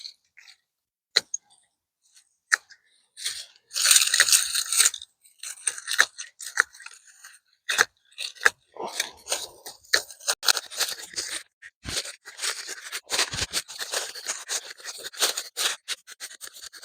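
Hand shears snip back garden mums in a December garden, sharp close crisp cuts starting sparse and quickening into a busy run of clipping and rustling stems.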